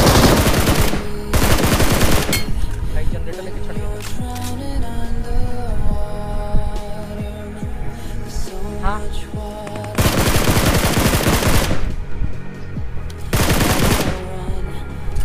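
Bursts of automatic gunfire in BGMI, the battle royale shooter, with loud sustained volleys at the start and again near the end, and quieter game ambience and hum in between.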